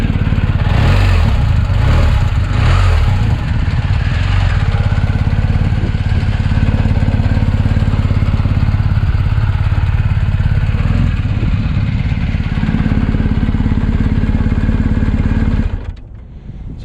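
A 2020 BMW R 1250 GS Adventure HP motorcycle engine idles steadily in neutral close by, a low, even rumble with light mechanical clatter, holding for about sixteen seconds before cutting off abruptly near the end.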